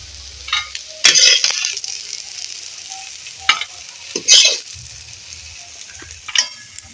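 Sesame fritters (bora) fry in hot oil with a steady close sizzle, broken by several sharp bursts and clinks as pieces are turned or lifted with a utensil.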